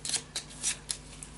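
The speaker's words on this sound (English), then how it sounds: "you shuffle those up for a random game" Cards for a WWII escape board game are shuffled in a few quick riffling bursts, crisp and close, with short pauses between them.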